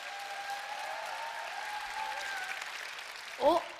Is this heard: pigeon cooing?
no